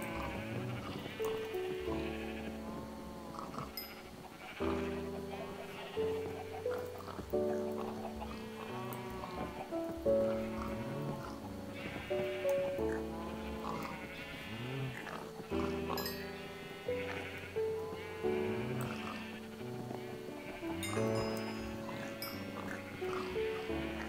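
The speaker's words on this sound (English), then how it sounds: "A lot of sheep today." Sheep bleat repeatedly in a farming video game set in a cold weather area, the calls recurring every few seconds at moderate volume over a continuous musical backdrop, with no talk.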